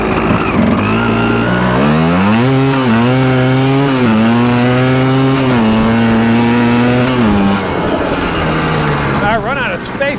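Yamaha Tri-Z 250 two-stroke three-wheeler engine revs loud and close, its pitch rising as it climbs through the gears, holding high, then dropping off near the end.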